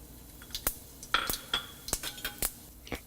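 Mustard seeds pop and crackle in hot coconut oil in a pan, giving a scattered series of sharp, bright ticks and snaps at irregular intervals over a quiet background.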